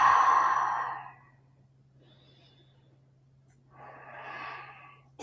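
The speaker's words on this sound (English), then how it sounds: "Take a couple of big breaths here." Deep breathing during a lower back stretch in a strength-training session: a long, close, audible exhale, a pause of near silence, then another breath, with a faint steady hum underneath.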